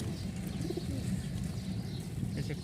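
Pigeons cooing inside a carton, soft low murmuring coos repeating close by over a dull steady background.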